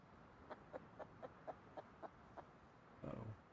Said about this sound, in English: Oh, chicken.